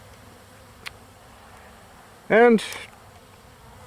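A low, steady buzz of bees hums quietly throughout, broken once by a short, loud voiced sound partway through.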